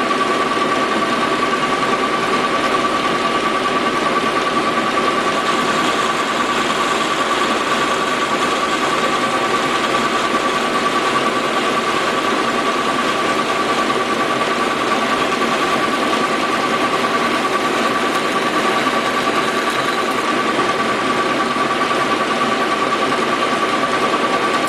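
A metal lathe parts off a Willys generator bushing, a steady loud machine drone with a sharp whining tone running unbroken throughout, no voices over it.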